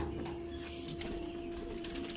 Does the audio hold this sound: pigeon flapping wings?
yes